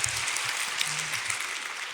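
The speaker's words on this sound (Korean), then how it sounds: "박수 할 거면 제대로 합시다" Congregation applause in a church sanctuary in Gyeongsan, a dense steady wash of clapping lasting the whole stretch with a few faint voices and low murmurs mixed underneath.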